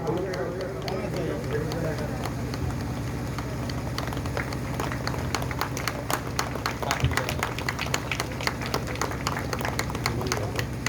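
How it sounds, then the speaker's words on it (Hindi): An audience at a devotional Bhagavat Katha gathering claps, a dense, building patter of hands over a steady low hum and a talking voice in the background, growing stronger toward the end. "ताली बजाए, जोरदार ताली बजाए।"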